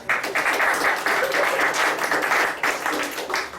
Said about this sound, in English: You can clap for me in the audience if you want to right now